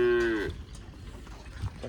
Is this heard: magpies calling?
no